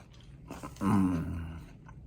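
Crunchy air-fried hash browns from a Breville Smart Oven Air Fryer Pro being bitten and chewed close to the mic, a few sharp crisp crunches followed by softer chewing.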